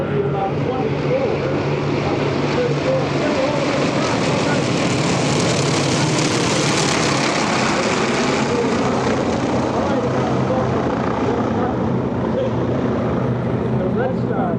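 Warbird propeller training aircraft such as a T-6 and T-28 fly in formation at an airshow, their loud droning engines roaring steadily and swelling as they pass overhead while an announcer talks over them.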